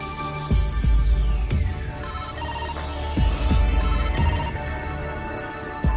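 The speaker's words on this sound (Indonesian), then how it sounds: "Saya telepon Karma dulu." A telephone rings with a repeating electronic ringtone pattern over background music, its tones pulsing steadily at moderate loudness, with no one speaking.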